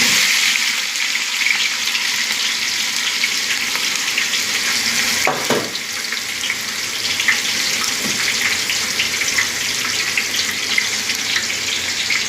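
Onions for chicken biryani fry in a hot pan with a steady, loud sizzle that runs the whole time, broken briefly by one sharper crackle partway through, with no talking.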